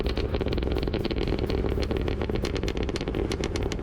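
The engine of a 2023 Cadillac Escalade-V burbles, a deep, rumbling idle close by with a steady throb that stays even for the whole span and has no talking over it.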